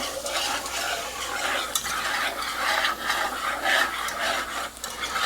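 Flour is stirred into the hot grease left from cooking chicken fried steak to start a gravy, giving continuous close scraping and rubbing of a utensil against the pan over a soft sizzle.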